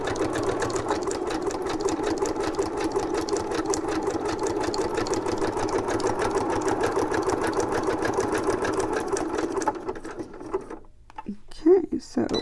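A domestic sewing machine stitches around the corner of a tag, running steadily and close for about ten seconds, then stopping as light handling noises follow.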